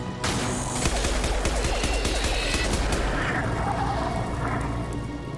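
An explosion goes off in Mass Effect 2 Legendary Edition, a sharp loud blast followed by rapid crackling bursts and rumbling debris that gradually fade.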